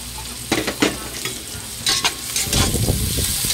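Ginger being stirred in a hot pan for a snail and coconut milk dish, with repeated scraping strokes over a steady sizzle, close and fairly loud, no talking.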